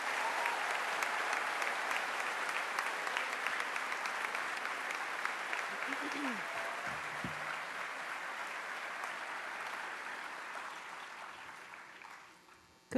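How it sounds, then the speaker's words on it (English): An audience applauds students at a school ceremony, a dense, steady clapping that holds for about twelve seconds before tapering off. "Please give these students a round of applause."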